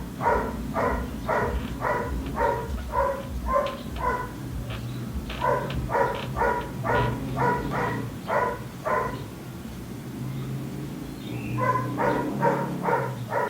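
A dog barks over and over in quick bursts, pausing briefly between runs, fairly close, with a low steady hum underneath.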